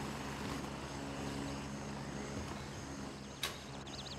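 A steady, low rotor-like helicopter drone in the video game Gray Zone Warfare hums throughout at moderate distance, with a brief sharp click near the end.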